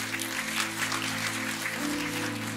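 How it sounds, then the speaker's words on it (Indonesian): Congregation applauding during a church service, a steady wash of clapping over held musical tones that shift partway through. "Tepuk tangan"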